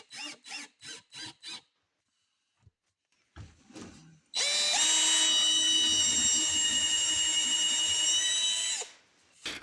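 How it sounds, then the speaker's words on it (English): A power drill drives screws into 2x4 wood: a few quick trigger pulses, then a long, loud, steady whine as a screw is driven home, close and clear with quiet gaps around it. "Then screw them in with 2 screws."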